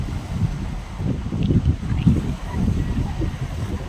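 Ocean waves and wind on a big-swell morning at sea, a continuous low rushing surge with gusty wind buffeting the microphone, no speech.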